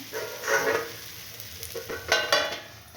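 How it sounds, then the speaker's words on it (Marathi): Coriander thalipeeth frying in oil in a pan, a steady close sizzle with a few louder crackling bursts and light clatter, no voices. "आता ह्याच्यावर टाकत आहे, मस्त तेल सोडते कडेकडेने आणि यावर झाकण ठेवून देते."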